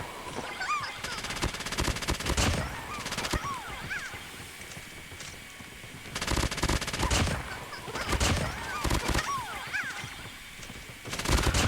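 Bursts of RUS-79U automatic gunfire from a ranked video game match come in several loud clusters separated by quieter gaps, with game effects and a voice talking underneath.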